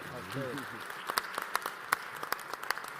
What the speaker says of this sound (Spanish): un aplauso para nuestros panelistas y Armando